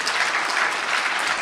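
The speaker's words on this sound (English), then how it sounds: "you guys should be applauding that" Audience at a food summit talk bursts into dense, steady clapping, a full room of applause filling the short moment without speech.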